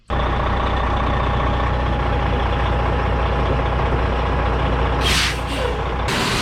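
A Volvo truck rumbles loudly and steadily nearby while being loaded with corn, a constant heavy engine drone with a couple of sharp hissing air bursts near the end.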